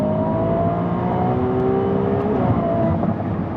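A Ferrari 488 GTB with upgraded turbos accelerating, heard from inside as a loud, steady engine roar with rising whine and a brief gear change, continuous for several seconds.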